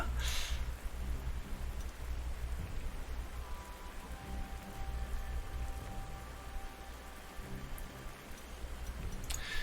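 Steady rain falls in the strategy war game Panzer Corps 2, an even hiss of raindrops on surfaces with a faint low rumble beneath, continuous and without speech.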